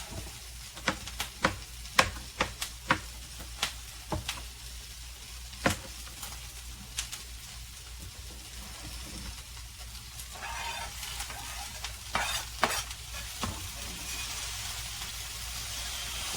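Mini bella mushrooms sizzle in a hot skillet, a steady frying hiss broken by a series of sharp clicks and taps from stirring, with no talking.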